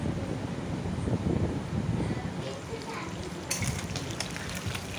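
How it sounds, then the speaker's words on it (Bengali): Fish pieces fry one by one in hot oil, making a dense steady sizzle and crackle mixed with rough wind-like noise throughout. "আর মাছগুলো আমি এরকমভাবে সব ভেজে নিচ্ছি এক এক করে।"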